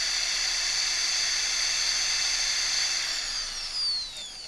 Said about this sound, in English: It needs to be a metal bit or you'll have trouble getting through to drill the pilot